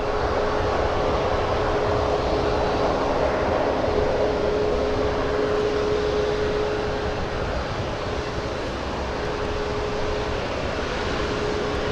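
A Sun Country Boeing 737-800 arriving at San Francisco International Airport sends a steady, distant jet roar with a faint whine, holding evenly for about twelve seconds with no voices.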